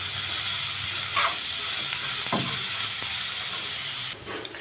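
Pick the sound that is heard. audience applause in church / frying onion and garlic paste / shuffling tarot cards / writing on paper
frying onion and garlic paste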